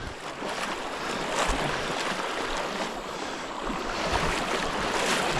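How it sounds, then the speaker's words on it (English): Fast river current on the White River rushes in a steady, broadband wash with choppy ripples, continuous and fairly loud outdoors with some wind buffeting the microphone. "Man, the current is moving."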